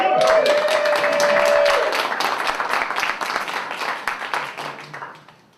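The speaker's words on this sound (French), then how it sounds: "On l'applaudit?" An audience at a live comedy show breaks into applause for a volunteer called onstage: a dense burst of clapping that starts full and gradually thins and fades over a few seconds, with a brief whistle at the start.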